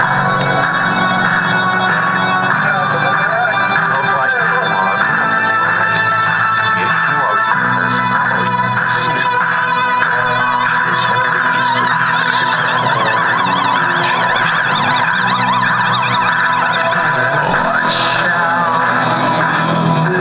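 A song played forwards from a recording: dense, steady music with layered sustained tones, moderately loud and continuous throughout with no talking.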